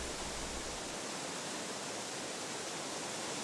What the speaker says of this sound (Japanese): ご神体の脇から流れ落ちる神秘の二条の滝